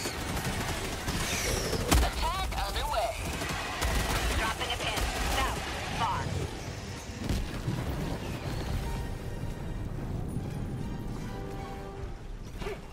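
A heavy machine gun in Helldivers 2 rattles off rapid bursts of loud, close gunfire over explosions and battle noise, with talking mixed in at times.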